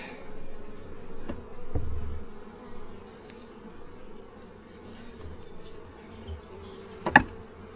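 Low, steady insect hum of many honeybees droning close by at an open hive during inspection, with a few soft knocks and a brief sharper clatter near the end.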